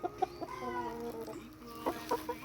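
Several chickens cluck nearby in short bursts and soft trills, a couple of sharper calls standing out over a quiet farmyard background.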